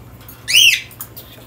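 A single shrill, sweeping chirp from a cockatiel, close and loud, followed by a couple of faint softer peeps.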